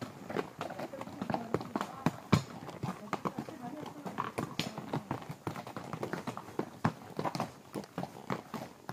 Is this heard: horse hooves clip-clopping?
yes